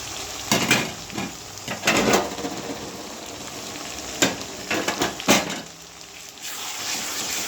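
Meat and tomato frying in a pan, a soft steady sizzle with several louder bursts of stirring and spoon scraping against the pan, close and with no talk.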